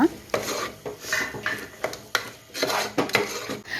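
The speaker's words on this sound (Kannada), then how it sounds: "ಗೋಡಂಬಿದು ಪೇಸ್ಟ್ ಮಾಡಿಟ್ಟಿದ್ದೇವಲ್ಲ ಅದನ್ನು ಕೂಡ ಇದಕ್ಕೆ ಸೇರಿಸ್ತಾ ಇದ್ದೇನೆ ಸೇರಿಸಿ ಚೆನ್ನಾಗಿ ಒಮ್ಮೆ ಮಿಕ್ಸ್ ಮಾಡೋಣ" A spoon stirs tomato and cashew paste through a thick mutton gravy in a pot, making close, irregular scraping and clinking strokes with short pauses between them.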